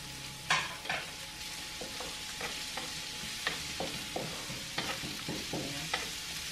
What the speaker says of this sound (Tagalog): Gisa lang natin hanggang maging translucent yung sibuyas